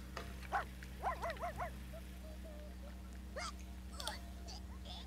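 A pet dog in the life-simulation game The Sims 2 gives a few short, faint yips and barks in small bursts over a steady low hum, followed by some higher chirpy game sounds.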